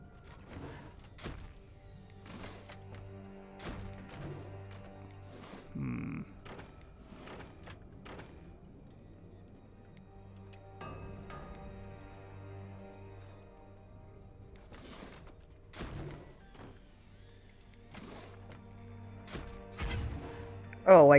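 Mortar shells in the Forts multiplayer game thumping down as misses, with scattered dull impacts and crashes spread through the clip over a quiet background, one louder hit at the very end.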